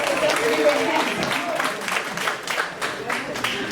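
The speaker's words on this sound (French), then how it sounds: "Je vais demander de m'applaudir un petit peu" An audience claps at a farewell tribute event for Ivory Coast's ambassador to the USA, a dense, loud burst of applause filling the short stretch, with a voice faintly audible beneath it.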